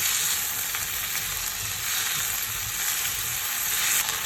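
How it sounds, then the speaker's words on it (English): Slices of Chinese yam stir-fry in a hot pan, giving a steady, close sizzle with faint scraping and stirring under it and no voices. "And stir fry it."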